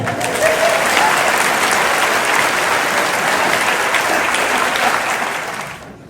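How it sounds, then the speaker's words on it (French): Dense audience applause at a Franciscan family gathering in Lourdes, loud and sustained clapping from a large crowd that fades out at the end. "On l'applaudit."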